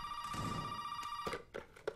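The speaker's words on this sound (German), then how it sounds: "Hier direkt das Telefon." A telephone rings in the horror video game Resident Evil 7, a steady electronic bell tone sustained for over a second, then cut by short bursts of clatter and softer ringing.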